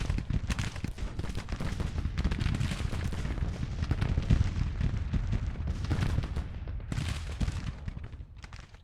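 Musket volleys and artillery fire in the Civil War strategy game Grand Tactician crackle and thump continuously, with dense overlapping shots and booms at moderate distance that thin out toward the end, with no talking.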